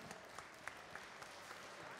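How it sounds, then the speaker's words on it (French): Soft, distant clapping from an audience honouring cooks at a culinary stage event, a faint even patter of hands lasting a couple of seconds with no voices over it. "Et on peut les applaudir bien fort."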